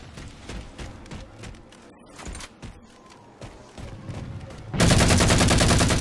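Gunfire in the Halo 4 video game, with sharp repeated shots and bursts in an irregular rhythm through a multiplayer match, ending in a loud sustained burst of rapid fire.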